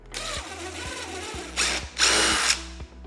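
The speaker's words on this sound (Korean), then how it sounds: "옆에다가 구멍을 다시 하나 뚫어 볼게요" Power drill pre-drilling a hole beside the end of a piece of wood for a screw, the motor whirring in short pulses with a couple of louder bursts as the bit bites, close up and without talk.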